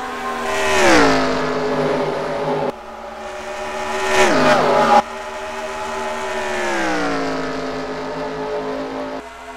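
Race car engines in a stock-car racing video game, Avis Cup Series race at the Kobalt Tools 400, roar loudly with rising and falling revs as throttle is fed in and lifted through the corners, one car passing close.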